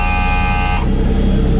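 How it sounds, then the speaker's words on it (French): A race car engine warming up at the Paul Ricard circuit, loud and steady at close range, with a bright horn-like tone that stops partway through and leaves the engine rumbling on. "Donc maintenant on va faire chauffer la voiture pour arriver à quelque chose"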